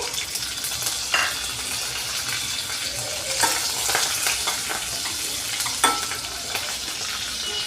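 Green chillies and dried red chillies fry in hot oil for a potato poori curry, giving a loud, steady crackling sizzle with a few sharper spits and stirring scrapes. No one speaks.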